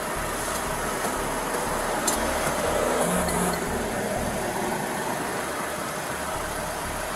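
A car engine idles steadily at a traffic stop, a low continuous rumble holding even throughout with no voices.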